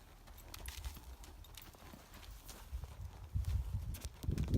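Horse hooves clip-clopping at a walk during a horse training lesson, a steady close rhythm of hoof falls that grows louder toward the end, with no talking.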